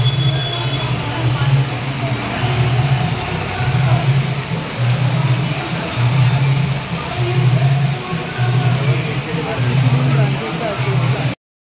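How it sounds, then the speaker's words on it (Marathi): Evening rain pours steadily on a crowded flower-market street during the Dasara festival, a dense continuous hiss with a low engine-like hum pulsing beneath it throughout. "दिवसभर पाऊस नव्हता आणि आता बघा 7 वाजता पाऊस सुटलाय."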